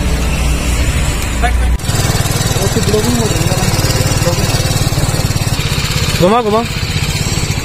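A BMW G310 R BS6 motorcycle engine thrums steadily while riding, a loud, close buzzing drone with wind rush, as someone talks over it.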